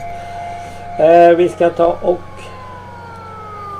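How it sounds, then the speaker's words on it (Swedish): A steady, slowly wavering siren tone in the video game S.T.A.L.K.E.R. Shadow of Chernobyl drones continuously in the background, while someone briefly speaks over it midway. "Den här sirenen är jag ju, vad jag tycker illa om den."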